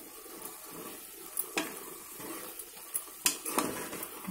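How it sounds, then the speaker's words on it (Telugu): Water poured into a pan of mushroom curry cooking on the stove, soft splashing and gentle sizzling with a few sharp clinks, fairly faint and close. "కొంచెం వాటర్ వేయాలి"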